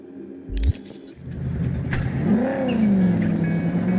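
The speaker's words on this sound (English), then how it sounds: "I find driving to be very difficult in this game." A car driven in the video game Cyberpunk 2077, its engine rumbling and revving upward into a steady, sustained drone after a brief clatter at the start.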